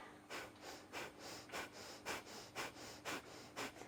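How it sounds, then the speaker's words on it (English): Forceful rhythmic nasal breathing during a yoga class, with sharp puffs of air pushed out through the nose about twice a second, close and steady, with no talking. "draw the belly in tightly and puff the air out through the nose. And then inflating the belly, forcefully breathe in"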